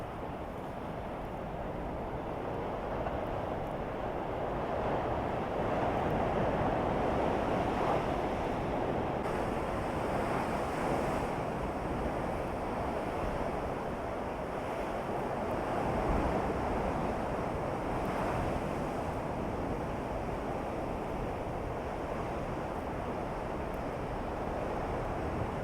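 Sea waves surge and wash against the Scottish coast under constant gusting wind that buffets the microphone, a dense, steady roar with gentle swells and no voices.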